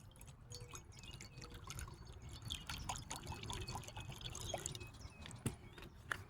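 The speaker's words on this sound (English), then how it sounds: "So I'm gonna pour water in here and then dump it out" Water trickles and drips as it is poured into a crystal glass vessel and then tipped out, a soft continuous splashing with small clinks, close and fairly quiet.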